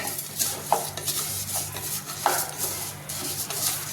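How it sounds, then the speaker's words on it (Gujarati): Broken wheat is roasted over low heat in a pan for fada lapsi and stirred continuously, producing close, soft scraping and rustling strokes over a faint sizzle, with no voices. "આવી રીતે સતત તેને હલાવી અને શેકી લેવાના છે"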